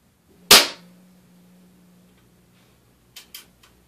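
Single sharp crack of an air gun firing a Daisy .22 wadcutter pellet, close and loud with a brief ringing tail, followed a few seconds later by two faint clicks.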